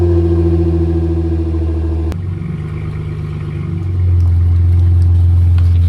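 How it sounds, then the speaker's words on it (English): A Nissan Frontier with its stock exhaust idles loudly, with a sharp click partway through, before the engine catches and settles into a deeper, steady rumble close by. "This is the last startup with the old stock exhaust pipe."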